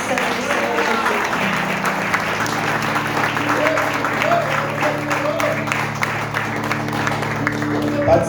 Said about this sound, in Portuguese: E as palmas engrandecem o nome santo do Senhor Jesus.